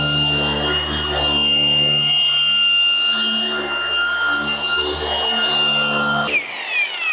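A cordless polisher whines steadily at high speed with a bright, sustained motor tone and rubbing hiss, then cuts off near the end.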